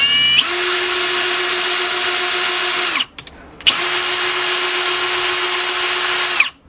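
A power drill driving a bicycle spoke threader whines steadily, pauses briefly, then runs again at the same pitch before stopping.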